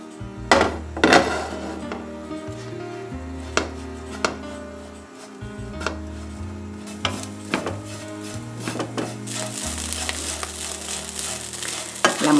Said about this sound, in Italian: Metto poi il pane che ho appena frullato in una padella, aggiungo un filo d'olio e lo faccio tostare qualche minuto.